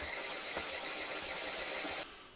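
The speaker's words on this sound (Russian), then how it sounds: "Под собственным весом камень шлифует другой камень." A Japanese-style water whetstone being flattened by another stone sliding over it under its own weight, giving a steady, fairly quiet gritty rubbing hiss that ends abruptly near the close.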